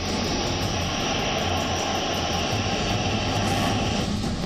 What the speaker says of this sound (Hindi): एक विमान रनवे पर तेजी से दौड़ रहा था। थोड़ी ही देर में वो टेक ऑफ करने वाला था।